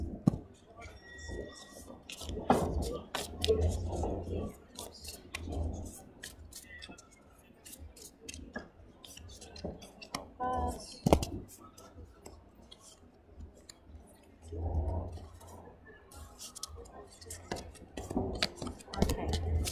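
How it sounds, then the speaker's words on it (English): Tarot cards being laid down on a table, soft scattered taps, slaps and shuffling rustles at a close, quiet level, with faint murmured talk at times. "Let me just put some cards down quickly for the eclipse."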